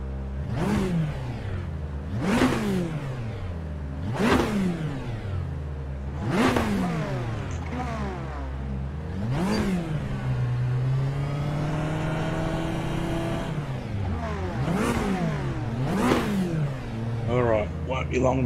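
A Ferrari GT3 race car engine in a racing video game at the Red Bull Ring revs hard in repeated sharp surges, roughly every two seconds, with a sustained high whine midway and voices talking underneath.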